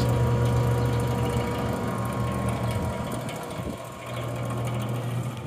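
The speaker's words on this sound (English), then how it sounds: "The unit starts strong and runs strong as you would expect with a brand new motor and gearbox." A Berg SMC 1090 tumble mixer blender with a brand new motor and gearbox runs steadily, giving a continuous mechanical hum with a low drone and light ratcheting, gear-like chatter throughout, with no other sounds.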